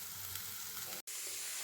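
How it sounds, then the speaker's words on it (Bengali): Onion and capsicum frying lightly in a pan for a chicken shawarma bun filling give a steady, close crackling sizzle with no talk, broken by a split-second gap of silence near the end. "পেঁয়াজ ক্যাপসিকামটা আমার হালকা ভাজা হয়ে গিয়েছে।"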